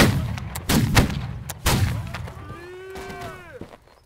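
Musket volley in a Napoleonic-era line battle in Holdfast: Nations At War, a few sharp staggered cracks near the start followed by rumbling echo, with a whistling tone rising and falling toward the end.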